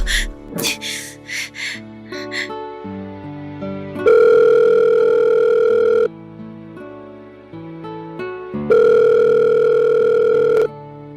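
A cellphone rings with loud, steady electronic tones in two long bursts, each about two seconds, and softer tonal ringtone notes play before and between them. Nobody speaks.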